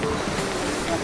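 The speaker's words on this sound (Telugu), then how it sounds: "అసలు ఇక్కడ అలలు చాలా హెవీ అయిపోయాయి" Heavy sea waves surge and crash against the shore at sunrise near a rocky memorial headland, a steady roaring wash of surf with wind buffeting, close and fairly loud throughout.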